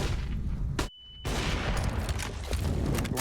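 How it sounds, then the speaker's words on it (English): Gunfire in a Counter-Strike match on the Dust2 map at an ESL Pro League game sounds in dense, loud rapid bursts. A short silent gap follows, then more shots crack and rattle. "Blind shot doesn't connect."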